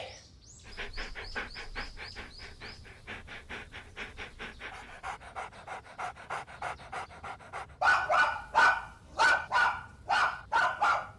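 Dogs pant in a fast, steady rhythm of short breaths for several seconds, then break into a series of sharp, loud barks near the end, close and without talk, in an anime scene.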